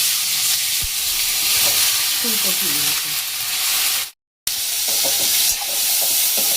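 Nuts and vegetables fry with a pinch of turmeric and half a spoon of salt, a steady bright sizzle throughout with a few stirring clicks and a brief dropout near the middle.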